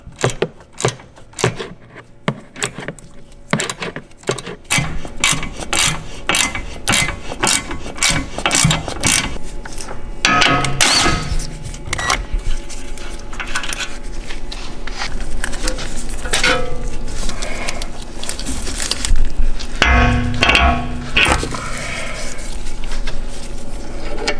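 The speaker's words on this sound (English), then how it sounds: "put the socket wrench to, like, if you were going to tighten it, because you are tightening the ball joint so that the nut gets loosened out" A socket wrench works a sway bar link nut on a BMW during an airbag suspension install: rapid ratcheting clicks up close, then denser metallic rattling and clanking of tools and parts, loud and continuous, with no talking.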